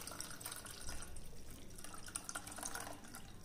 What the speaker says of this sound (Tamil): நம்ம ரெடி பண்ண ரோஸ் மில்க் எசன்ஸை ஒரு முறை நான் வடிகட்டி வச்சுருக்கேங்க, நம்ம இன்னொரு முறை வடிகட்டிடலாம்.